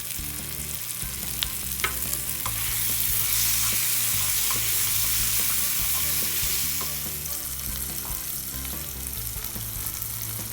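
Tomatoes and roasted garlic frying for an eggplant mash, a loud continuous sizzle in the pan with occasional stirring clicks and scrapes, close and steady with no voices.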